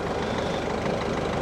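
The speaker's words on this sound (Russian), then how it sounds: "двигатель работает неустойчиво" A Ford Focus engine idles unevenly with a steady low rumble and a slight irregular pulse, close and continuous, with no talk.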